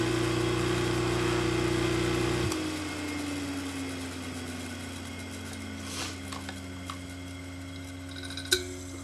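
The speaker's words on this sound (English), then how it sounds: "Very large, very powerful electric motor." An Ajax 1 1/2 hp, 1725 RPM electric motor runs with a steady, loud hum; partway through the tone drops and settles into a lower, smoother whir. A few faint clicks and one sharp tap come near the end.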